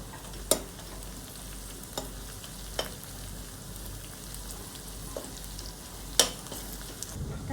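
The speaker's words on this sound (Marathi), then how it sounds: "आता मी याच्यामध्ये थोडंसं अद्रक लसूण टाकते" Ginger and garlic frying with golden brown onions for chicken sukha, a steady low sizzle broken by a few sharp clinks and scrapes of a spoon against the pan; no one speaks.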